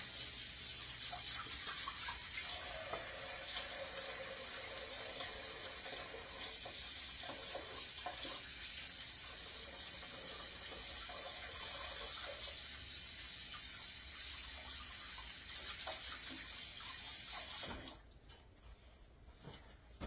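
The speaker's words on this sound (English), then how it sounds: "So let me wash my hands." A kitchen tap runs steadily while hands are washed under it, a continuous close water rush and splash lasting most of the stretch before cutting off near the end.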